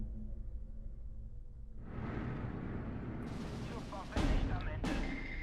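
Bombing explosions from an aerial strike in the World War II strategy game Steel Division 2, a rumbling build-up followed by two sharp, loud blasts near the end, set against a continuous low battlefield din.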